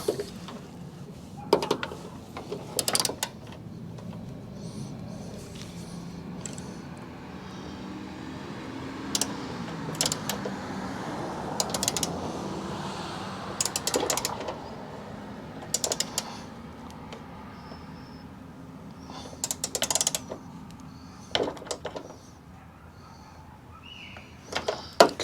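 Hood latch nuts tightened on a Jeep Wrangler: intermittent sharp clicks and ratcheting snaps in short bursts, scattered over a quiet, low background hum, close and fairly soft.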